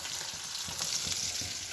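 Fish frying in a pan on a gas stove at home, a steady close crackling sizzle with soft low bubbling underneath, alone with no voices.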